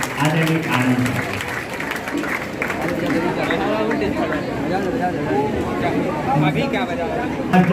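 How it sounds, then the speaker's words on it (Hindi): A crowd applauds a guest being honoured at a club felicitation event, sustained dense clapping and chatter throughout, with an announcer's voice over it. "प्लीज एक बार जोरदार तालियां"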